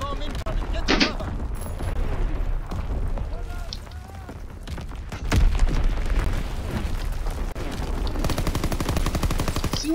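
Gunfire and artillery bombardment in the video game Call of Duty WW2: bursts of shots and heavy booms, one strong blast midway, followed by dense rapid fire near the end, with game voices heard in between.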